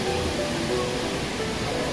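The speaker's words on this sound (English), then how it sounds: "There's the waterfall" A waterfall in Hong Kong Park gives a steady broadband rush of falling water, moderately loud and even across a short stretch, with no voices.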